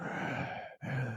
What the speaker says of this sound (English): he's doing that heavy breathing here